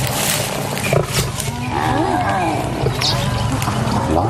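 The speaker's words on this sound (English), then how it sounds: "They're geeing each other up, they're rallying the call." Lions of the Ximhungwe pride roar and call back and forth at close range in the African bush, heavy rumbling roars layered over one another with a loud, continuous presence.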